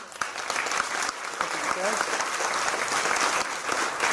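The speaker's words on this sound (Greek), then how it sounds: "Ένα θερμό χειροκρότημα στην Καλαμαριά." Warm, sustained applause from a school theatre audience in Kalamaria, Greece, dense clapping filling the hall steadily from start to finish, with a few voices faintly audible beneath it.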